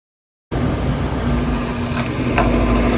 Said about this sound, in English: our inducer motor turned on, our fan is now spinning